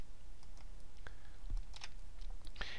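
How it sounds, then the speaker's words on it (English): A computer mouse clicks several times, sharp and quiet, while the Control key is held down to select cells in an Excel spreadsheet. Nobody speaks during the clicks. "I'm going to click, clicking and holding Control."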